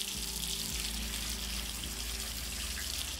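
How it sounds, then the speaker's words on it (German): Water from a tap runs steadily into a basin in the video game Deus Ex Mankind Divided, a continuous hissing rush over a low electronic hum, close and even throughout. "Mal Wasser einlassen."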